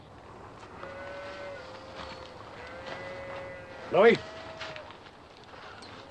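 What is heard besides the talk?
cattle mooing in a film scene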